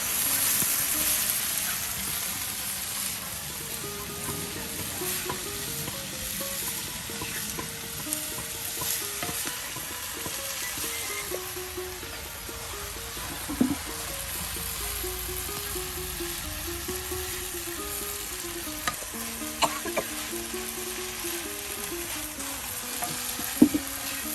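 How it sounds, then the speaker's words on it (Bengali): Potatoes fry in oil in a pan while being cooked until crisp for a village-style iftar dish, a long steady sizzle with occasional stirring clacks and scrapes, close and even in level, with a faint tonal hum underneath. "এই যে আলুটা দেখুন ভালো করে আপনার ভেজে নেওয়া হচ্ছে"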